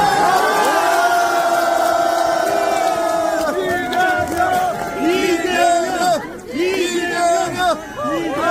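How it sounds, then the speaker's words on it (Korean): A large outdoor crowd at a South Korean presidential campaign rally cheers and shouts to welcome the candidate, a loud sustained roar of voices and whoops with a strong amplified announcer voice speaking over it. "다시 한번 이재명 후보님을 뜨거운 박수와 함성으로 환영합니다"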